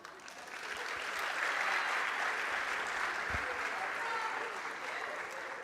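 Audience applause at a university athletics awards show, a sustained wash of clapping that swells and holds steady for several seconds with a few louder hand claps close by.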